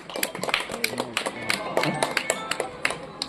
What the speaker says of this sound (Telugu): గట్టిగా చప్పట్లు కొట్టాలండి, ఘనమైన చప్పట్లు.